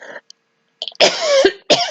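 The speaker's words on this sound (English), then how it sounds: "that cough is still hanging on just a little" A few harsh coughs, close and loud, the last two heavy bursts separated by a brief pause.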